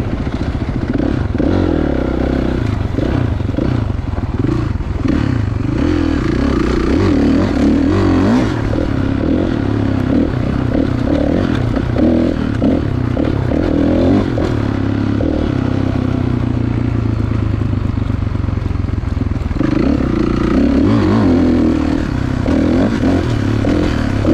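A 2016 Kawasaki KX 450 dirt bike roars steadily and loudly while riding laps around a makeshift course at the ponds, the engine revving and easing under continuous clatter and wind.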